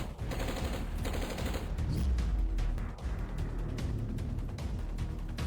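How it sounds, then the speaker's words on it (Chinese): Rapid bursts of gunfire from a drama scene, a dense fusillade of shots and booming impacts that keep up loudly and steadily for several seconds with no talk over them. "开枪，杀了他！"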